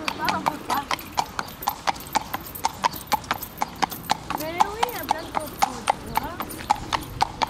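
Several horses walking on an outing by a lake, their hooves clip-clopping in a steady close rhythm with a brief whinny, while people talk over the hoofbeats.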